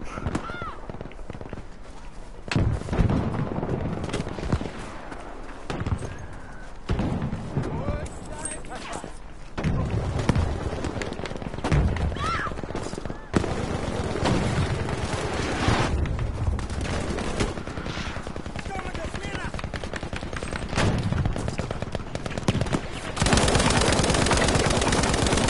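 Rapid automatic gunfire and sharp shots ring out in a Battlefield video game, close and nearly continuous, with someone talking over the shooting.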